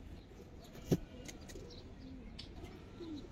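Giribaz and silver pigeons make faint, low cooing sounds against a steady background hum, with one brief louder knock or flutter nearby.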